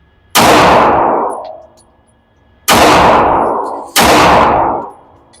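Three loud, sharp gunshots from a Girsan Witness 2311 pistol being test fired outdoors, the first alone and the last two closer together, each ringing out with a long fading echo.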